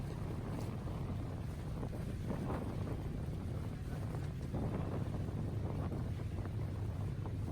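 A steady low boat engine drones throughout on a ride around Coron, Palawan, Philippines, mixed with wind buffeting and water rushing past the hull.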